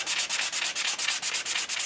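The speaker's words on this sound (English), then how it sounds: "Now I'm going to sand the edge." Sandpaper working around the edge of a wooden Native American flute, a brisk, even rhythm of rasping strokes, loud and close, with no voices.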